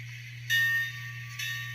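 Locomotive bell from a sound decoder in an N scale Bachmann Consolidation steam model, ringing in two bright bursts over a steady low motor hum.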